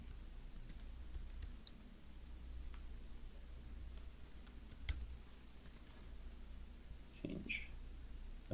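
Password being typed on a computer keyboard: sparse, faint key clicks spread irregularly over a quiet hiss, with a slightly louder cluster of taps near the end.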